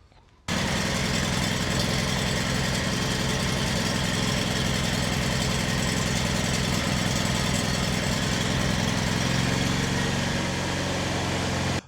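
A Kohler small engine starts abruptly after a brief quiet moment and then runs at a steady, loud, throbbing idle with a constant rhythmic pulse until it cuts out at the very end.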